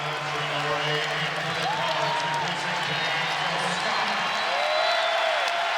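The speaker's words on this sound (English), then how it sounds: "He gets a round of applause as he heads to the bench." Basketball arena crowd at a Clemson vs. Louisville ACC men's game applauding a player heading to the bench, a steady loud wash of clapping and cheering with a play-by-play commentator talking over it throughout.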